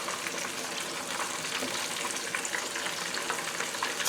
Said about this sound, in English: when I finish frying it